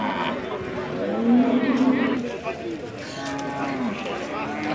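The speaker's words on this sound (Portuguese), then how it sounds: "Aí o boi bravo, olha o boi bravo, olha." Cattle at a livestock fair in Cachoeirinha, Pernambuco, moo loudly and close in long drawn-out calls, over a busy crowd murmur.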